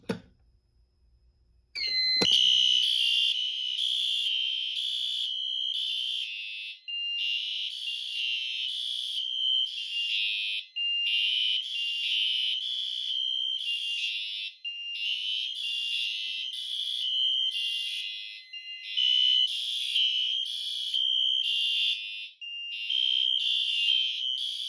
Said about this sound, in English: a Siemens UMHU horn strobe